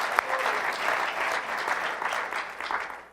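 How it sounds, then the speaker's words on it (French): A church congregation applauds, a dense, steady patter of many hands clapping together throughout, fading a little at the close. "On peut leur donner une main d'applaudissement,"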